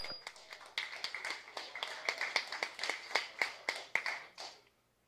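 A small audience at a tech talk on Bluetooth Low Energy claps for a speaker, with sparse, distinct individual claps in a steady rhythm that fade out near the end.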